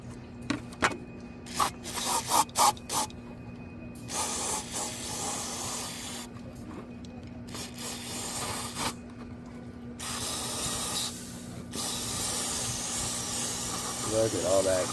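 A steady hiss of aerosol spray through a tube runs through most of the clip, on a 2002 Chevy Silverado, with short bursts and bits of handling noise at the start and a voice briefly nearby.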